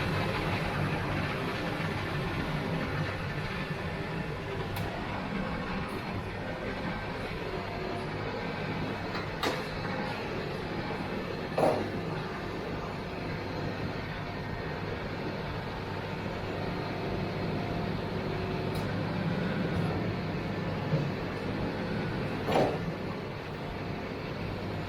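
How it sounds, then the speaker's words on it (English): A tractor used with a batwing mower runs steadily, a continuous low engine rumble close by for the whole stretch, with a few sharp clanks and knocks scattered over it; no starting sequence is evident. "let me fire up the tractor"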